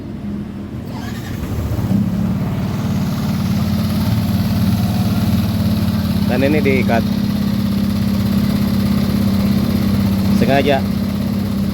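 A Yamaha NMAX scooter with an ESC fault is started and settles into a steady, close idle, a low even engine hum running throughout while someone talks over it.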